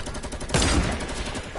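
Rapid SMG gunfire in a video game, a dense burst starting about a third of the way in and rattling on steadily at close range, with a sharp louder shot at the very end.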